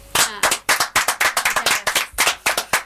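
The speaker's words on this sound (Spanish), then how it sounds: "como siempre lo hacemos con un aplauso" Close, sharp hand claps from a couple of people saying farewell after an interview, a quick uneven series of about a dozen distinct claps with little else around them.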